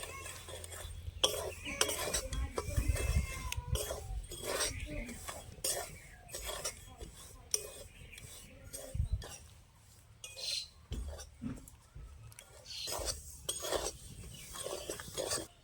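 Semolina and flour being fried in a pan while a spoon stirs and scrapes repeatedly against the metal, giving close irregular clinks and rasps throughout, with a voice speaking at times over the stirring.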